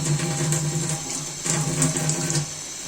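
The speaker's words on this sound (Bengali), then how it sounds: "ব্লেন্ডার জার ধুয়ে পানি দিয়ে দিচ্ছি" Tap water running into and rinsing a blender jar in a kitchen while cooking rui fish with beans, a close, continuous splashing flow with slight surges.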